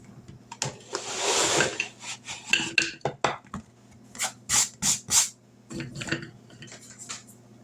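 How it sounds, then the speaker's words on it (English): Chopped candy ingredients tumble from a container into a crock pot, giving a clattering, rustling rush followed by several sharp scrapes and knocks of utensils against the pot, close and fairly loud with no talk. "we're going to dump this in the crock pot"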